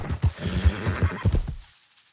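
A horse in Red Dead Redemption 2 gives a short neigh with soft hoof clops, a few loud pulsing bursts over about a second and a half that then fade out.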